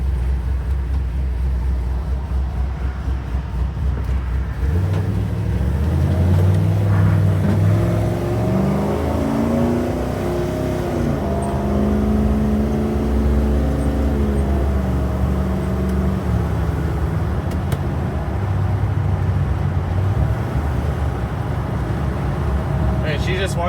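Chevrolet K5 Blazer driving and accelerating, a loud steady engine drone with rising and falling revs as it pulls through gears, heard from inside the cabin with constant road rumble.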